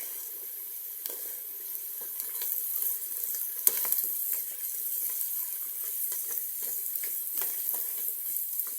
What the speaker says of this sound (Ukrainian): Трохи їх підсмажимо і вже картоплю.